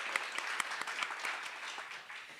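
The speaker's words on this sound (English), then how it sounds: "we would love to give you a round of applause" An audience at a state poetry recitation final gives a round of applause, distinct claps scattered through a hall, fairly faint and thinning toward the end.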